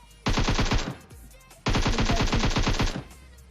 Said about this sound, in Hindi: देखो M16 से मार रहे हैं।